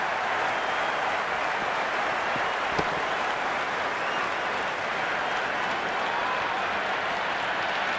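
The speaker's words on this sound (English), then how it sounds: "The spectators are absolutely buzzing right now" A cricket crowd at an Ashes Test between Australia and England applauds a six, a dense, steady roar of clapping and cheering that fills the whole stretch at an even level.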